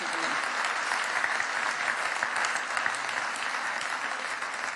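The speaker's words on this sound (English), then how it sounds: "let's give them another round of applause and thank them" Sustained audience applause from a conference crowd, steady and dense clapping filling the room for several seconds without a break.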